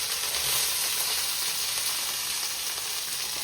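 Carrots, beans and onion sizzle in a hot pan for chicken fried rice, a steady, close, broadband frying hiss with no talk over it.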